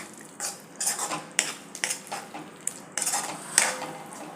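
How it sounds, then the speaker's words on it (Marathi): Fried potatoes are tipped into a pan with peas and paneer gravy and stirred, giving repeated close metallic spoon scrapes and clatters over a soft sizzle. "आणि बटाटे जे आपण परतून ठेवले होते ते घालूया. मिक्स करूया व्यवस्थित."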